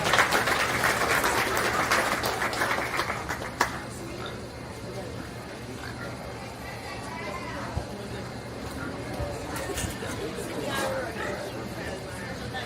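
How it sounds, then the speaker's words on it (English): Brief burst of audience applause at a county fair swine show, fading after a few seconds into crowd murmur and a voice over a loudspeaker. "Let's give these three young ladies a round of applause."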